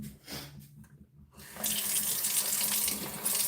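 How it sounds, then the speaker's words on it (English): A hand sprayer gently soaks potted plants with water. A soft hiss builds, then becomes a loud, continuous rushing spray that runs steadily to the end, with no talking. "I'm just gonna use the sprayer and just like kind of gently soak them in there"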